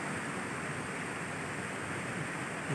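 Steady broadband rush of a waterfall running beside a villa swimming pool at Beluka Bukit, a constant even roar with no breaks and no voices.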